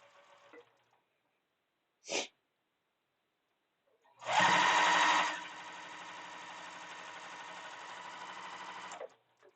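A sewing machine stitching in a Timberland Trails session: a brief whir, then a loud burst that settles into a steady mechanical hum for about five seconds before stopping, with no voices.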